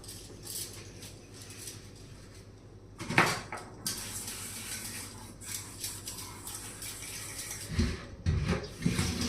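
Dishes, pots and pans clatter and knock under running tap water at a kitchen sink, with a few sharper metallic clanks near the end. No one speaks.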